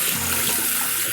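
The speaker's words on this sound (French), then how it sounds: "On rince le gant" Tap water running steadily as a washcloth mitt is rinsed beneath it, a brief, close splashing hiss with no talk.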